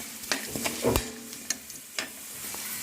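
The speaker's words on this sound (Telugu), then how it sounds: "ఇప్పుడు ఇందులో కొంచెం కరివేపాకు ఎండుమిర్చి వేసి వేయించుకోవాలి ఇవి బాగా వేయించుకోవాలి" Curry leaves and dried red chillies frying in a pan make a soft, steady sizzle. Intermittent clinks and scrapes of stirring come through, close and quiet, with no talking.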